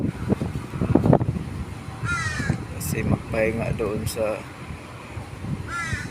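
Crows caw several times in short raspy bursts, some at a distance, while a person speaks nearby over faint background noise.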